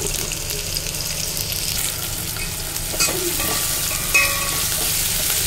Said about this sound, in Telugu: ఇందులోనే ఇప్పుడు కొద్దిగా కరివేపాకు, ఇవి బాగా వేగడానికి కొద్దిగా సాల్ట్ అయితే వేసుకోవాలి.